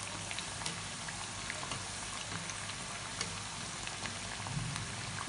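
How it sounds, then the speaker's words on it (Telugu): Potato and onion bajji deep frying in hot oil, a steady dense sizzle and crackle that runs throughout, soft and even, with no talking. "అటు ఇటు తిప్పుకుంటూ మనము ఫ్రై చేసుకోవాలండి"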